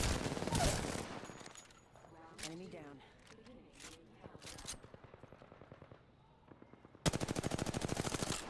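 Rapid automatic gunfire from an Apex Legends match, with bursts of shots opening and closing the moment, a heavy sustained volley near the end, and players talking in between.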